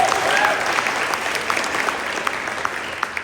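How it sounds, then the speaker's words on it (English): Guests at a high school volleyball awards banquet applaud a player, a dense, steady round of clapping that starts loud and slowly thins toward the end, with a few sharper individual claps standing out. "Clap for True."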